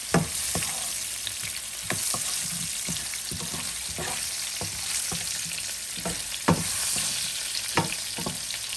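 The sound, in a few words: potatoes frying in a pan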